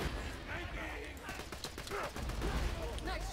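Rapid gunfire in the shooter Borderlands 2, a dense stream of shots and impacts with sharp cracks over a busy game soundscape, loud and continuous.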